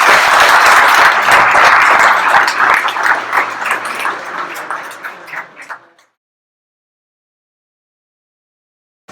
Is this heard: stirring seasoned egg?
no